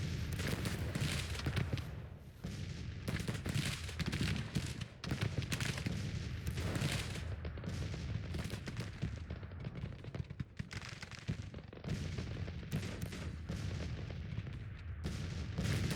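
Dense Civil War artillery and musket fire in Grand Tactician: The Civil War, a continuous rumble of distant cannon booms and crackling volleys with little pause, heavy and low throughout.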